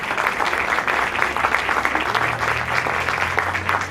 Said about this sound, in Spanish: Aplausos para don Máximo San Román